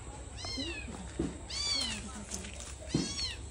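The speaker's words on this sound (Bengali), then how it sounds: "এখানে নাকি একটা বিড়াল রে মানে খাঁচার মধ্যে বন্দি করে রাখছে, চিল্লাতেছে আর কি, ছোট বাচ্চা" A small kitten shut in a cage gives three loud, drawn-out meows at close range, with faint background noise between the cries.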